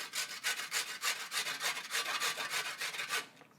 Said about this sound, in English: we're going to grate them